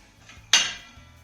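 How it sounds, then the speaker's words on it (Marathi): A single sharp metallic clank as a metal steamer sieve is set down on a pan of water heating on the stove, ringing briefly before fading, with faint background hum. "कढईमध्ये मी पाणी गरम करण्यासाठी ठेवलं होतं आता यावर आपल्याला ही चाळण ठेवून घ्यायची आहे"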